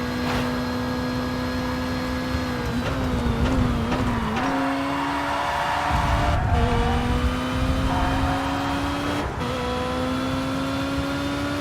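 Race car engine in TOCA Race Driver 3 during a DTM series lap, a loud, close, sustained whine that rises and falls in pitch through gear changes, with brief dips at shifts.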